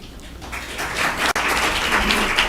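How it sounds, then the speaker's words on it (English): Audience at a school board meeting breaking into applause and cheering right after a public comment, a broad continuous crowd noise that swells and holds steady, with one brief sharp dropout midway. "I will remind everybody that we try not to clap or yell or anything like that during our meetings"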